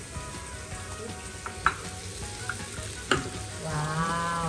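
An egg frying in a pan, a steady close sizzle broken by a few sharp clicks and taps, with the hiss swelling louder toward the end.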